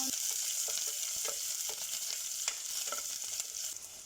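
Ginger and onion sizzle in hot cooking oil, a dense, steady crackling fry with occasional pops and faint stirring clicks, close and continuous throughout.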